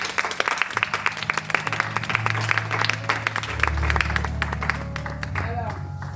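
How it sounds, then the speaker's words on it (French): Applause from an audience at a talk on identity, dense clapping throughout with crowd noise, while music with a steady low bass line plays beneath. "On peut les applaudir."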